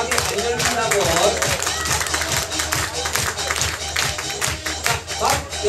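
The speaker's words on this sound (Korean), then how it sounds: "아리랑 랩소디 부모님들 박수와 함께 출발하도록 하겠습니다." Parents clap along at a school concert as an Arirang Rhapsody piece starts, a dense, steady wash of crowd clapping mixed with music and voices throughout.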